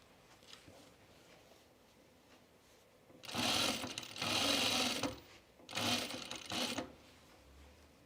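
A home sewing machine running in two loud bursts of fast, steady stitching, separated by a short pause, after a stretch of quiet room noise.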